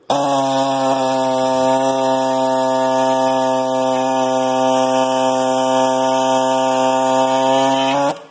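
A cutting tool slices through a stubborn chain slider on a Yamaha Banshee, a loud, steady, strongly tonal whine held without a break for about eight seconds before stopping abruptly.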